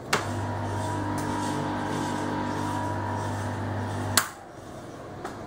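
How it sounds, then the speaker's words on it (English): An electric brewhouse pump running dry with no water gives a steady tonal hum for about four seconds, bracketed by sharp clicks as it switches on and off, leaving quiet room tone afterward. "that's the sound of the pump running with no water in it"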